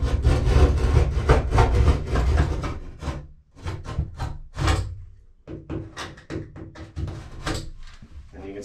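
A utility knife scores a bathroom wall board that cuts like drywall, making a close, loud scraping rasp in long continuous strokes, then shorter repeated scrapes after a brief pause.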